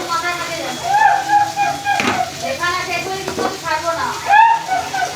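Pumpkin pieces fry in a pan after the potatoes, a steady sizzle broken by stirring scrapes and clatters. Someone talks over the frying for most of the clip.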